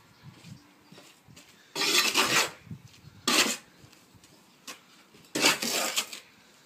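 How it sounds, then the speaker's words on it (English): Mortar for laying bricks is mixed by hand, giving three gritty scraping strokes separated by pauses, close and moderately loud over quiet background. "I'm going to mix our mortar."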